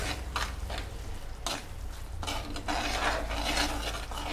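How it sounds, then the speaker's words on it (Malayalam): Fried mussels are stirred into a pickle mixture in a pan, a spoon scraping and clattering against the metal in uneven strokes over a soft sizzle. "ഫ്രൈ ചെയ്ത് വെച്ച കല്ലുമ്മക്കായി അതിലേക്ക് ചേർക്കാം. ഇനി ഒന്ന് നല്ലോണം മിക്സ് ചെയ്യാം"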